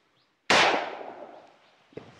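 A single sharp rifle shot cracks out loud and close on an Assam Rifles firing range, its echo decaying over a second, followed by a fainter metallic knock.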